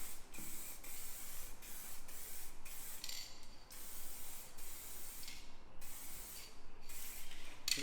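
Spray gun laying a mist coat of paint during a DIY crash repair, a close continuous hiss that pulses with each pass, without talking.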